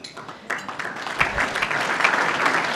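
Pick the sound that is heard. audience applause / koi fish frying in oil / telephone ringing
audience applause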